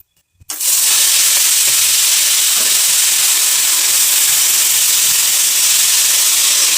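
Mustard greens (rai saag) dropped into a hot pan, bursting into a sudden loud sizzle after a brief quiet moment, then a strong, steady hiss of frying that continues unbroken to the end.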